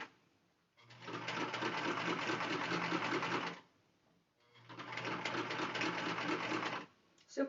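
Sewing machine stitching a circular seam in fabric, running in two steady whirring bursts of about three seconds each with a pause between, close and fairly loud.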